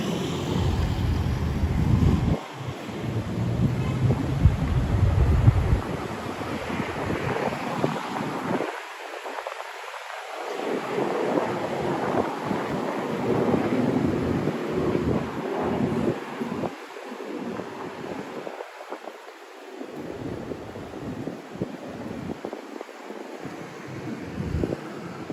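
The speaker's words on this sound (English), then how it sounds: "Very windy." Strong gusty night wind in a Miami street buffets the microphone in heavy, roaring bursts that rise and drop, loud and close throughout.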